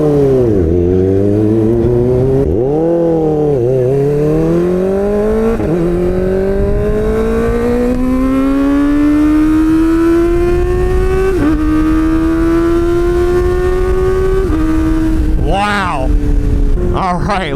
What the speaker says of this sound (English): this is the exact same exhaust with just the baffle removed